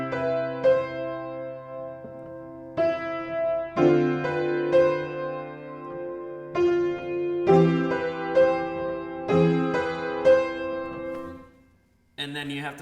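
Piano playing an arrangement of a song in chorale pop style, with right-hand chords filling out the melody, heard as sustained phrases in several separate sections and loud and close, with a brief other sound at the very end.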